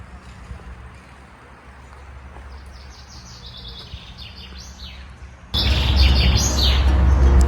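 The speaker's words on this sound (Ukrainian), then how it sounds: "Просто хочу, щоб ви почули пташок." Small birds chirp and tweet in repeated short phrases among the greenery of Varna's Sea Garden on a calm walk, fairly close and clear over soft park background noise that turns louder and windier partway through.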